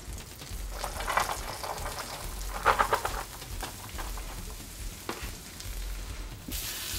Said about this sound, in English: We're gonna go ahead and cook these onions until they're nice and almost brown.